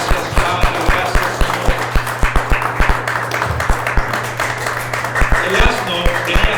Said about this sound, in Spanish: ¿Cuántos le dan un fuerte aplauso a Cristo Jesús?